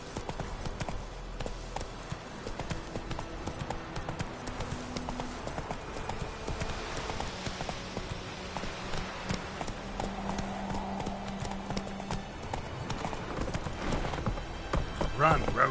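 Roach, the horse in The Witcher 3, galloping with rapid, steady hoofbeats throughout, mixed with game music and ambient noise, growing slightly louder toward the end.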